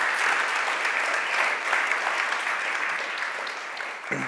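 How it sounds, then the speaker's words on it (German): Audience applause for two student speakers at a university talk, steady dense clapping filling the whole stretch before tapering slightly at the end. "Nochmal ganz großen Applaus für Attila und Christian."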